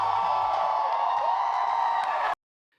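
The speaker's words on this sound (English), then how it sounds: "I typed things like large crowd cheering softly" An AI-generated large crowd cheers softly on a talent-show stage, a steady wash of distant applause and cheering voices that cuts off abruptly into silence near the end.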